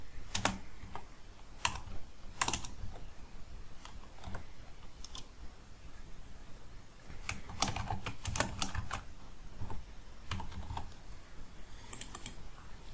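Keys clatter on a computer keyboard in uneven bursts of rapid, close clicks with short pauses between runs, no voices over them.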